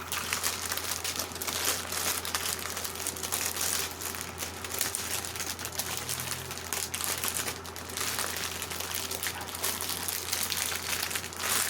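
Plastic bags of diamond painting drills being folded over by hand, giving a continuous soft crinkling and rustling at close range, fairly quiet, with no talking.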